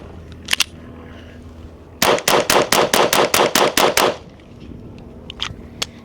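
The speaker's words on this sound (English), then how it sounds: "40 rounds that we're gonna shoot, 20 from me, 20 from Peter, pistol match, CCI, competition loads." A SIG Sauer P322 .22 pistol firing CCI competition rounds, ten quick sharp shots in an even rapid string, loud and close, with a few faint clicks before and after.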